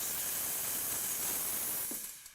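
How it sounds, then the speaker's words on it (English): An espresso machine's steam wand on a dual boiler unit blasts a loud, steady hiss of steam that tapers off near the end. "Simply push it to the open position and the steam comes out."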